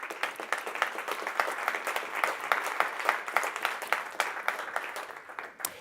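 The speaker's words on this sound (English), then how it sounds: "join me in applause for our speakers" Conference audience applauding speakers at an event in Brussels, a steady wash of many hands clapping at moderate volume with dense irregular claps throughout, no talking.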